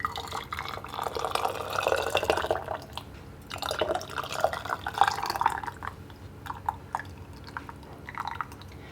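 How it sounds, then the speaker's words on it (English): Tomato soup ladled into a glass canning jar, giving soft wet pours and drips that come in bursts with brief pauses, close and moderately quiet, with no talking. "I'm going to fill the jar about to the edge of the neck."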